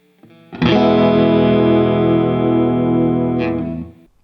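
A sustained Fender Stratocaster chord on the middle pickup rings out loud and full with a warm, rounded tone and a touch of effects, slowly decaying over about four seconds.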